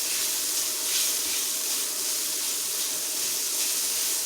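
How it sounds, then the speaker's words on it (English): Tomato paste fries in hot oil in a pan, giving a steady, close hiss and sizzle without pause and with no voices over it. "And we're actually frying the tomato paste a little bit."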